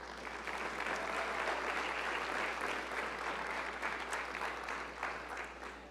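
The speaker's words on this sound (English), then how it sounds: "Let's give them a big round of applause." A university opening-session audience in Charleston gives the coaches a long round of applause, a broad, even wash of many hands clapping for about six seconds, heard from some distance and fairly quiet, with steady low hum underneath.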